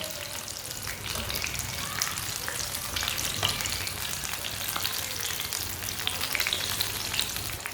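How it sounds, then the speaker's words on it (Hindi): Green chili pakoras fry in hot oil with a steady, dense sizzle that holds at an even level throughout, close by and with no voices. "आप देख सकते हैं मिर्चें हमारी फ्राई हो चुकी हैं।"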